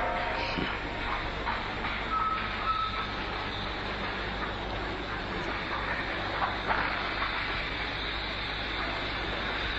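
A passenger train running on rails makes a steady, continuous rumble and roar with little change in level, and a brief thin tone rises out of the noise early on.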